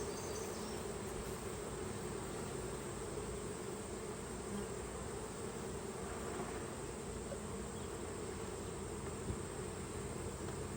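Honeybees buzz around an open hive in a dense, steady drone that stays faint but continuous throughout, with no talking.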